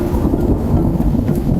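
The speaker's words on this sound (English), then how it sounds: "Rain battered rooftops. Thunder chased its own tail." Thunder rumbling over heavy rain in a storm, a loud continuous low roll with steady rain hiss throughout, no voices.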